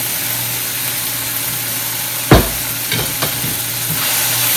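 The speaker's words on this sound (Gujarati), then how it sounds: "એમાં નાખી દઈએ ટામેટો, એને કરી દઈએ મિક્સ." Tomatoes and salt stirred into a pan with capsicum: a low steady sizzle under a faint background hum, with one sharp clatter and a few softer scrapes of the spoon, and no voices.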